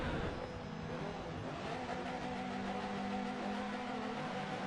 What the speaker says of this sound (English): Revs are climbing.